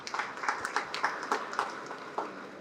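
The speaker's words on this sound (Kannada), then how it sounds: "ಚಪ್ಪಾಳೆ ತಟ್ಟಿದ್ದು ಯಾಕೇನು ಗೊತ್ತಿಲ್ಲ ನನಗೆ." An audience claps for a speech at a public gathering, a scattered, uneven round of applause with sharp individual claps over a couple of seconds.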